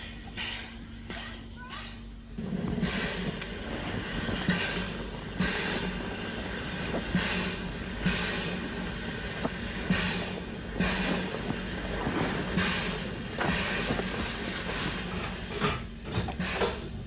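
A train at Ventnor station, set in a deep chalk cutting on the Isle of Wight, rumbles steadily with a rhythmic clatter recurring roughly every second, sustained and fairly close after a quieter start.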